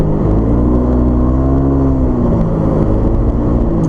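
A scooter rider moves through heavy traffic, with a loud, steady engine drone and wind rumble that holds throughout and rises slightly in pitch midway.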